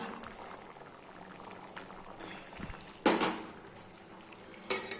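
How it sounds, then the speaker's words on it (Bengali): Chana dal bubbling in a pot on a home kitchen stove, a soft continuous simmer with low gurgles, broken by two short clatters of pot or utensil handling. "দুপুরবেলায় চা ছোলার ডাল ফুটছে"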